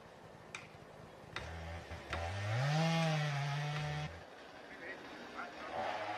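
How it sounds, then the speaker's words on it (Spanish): Chainsaws cutting timber in a snowy forest, a rising engine whine that swells loudly for a couple of seconds and then drops away, with short sharp knocks before it and faint ambient sounds after. "El sonido de las motosierras nos devuelve al presente."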